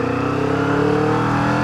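A Kawasaki Vulcan S 650 custom motorcycle accelerates hard, its engine note loud and close, climbing steadily in pitch through a short pull with no talking.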